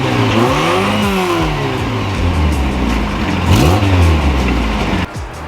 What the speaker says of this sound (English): I've got a side exit exhaust out the body